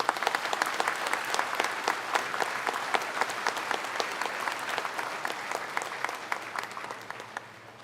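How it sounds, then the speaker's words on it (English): An audience of village security men and postal workers breaks into loud, sustained applause, dense rapid clapping that holds steady and then begins to thin out toward the end. "You need to give a louder round of applause for yourselves."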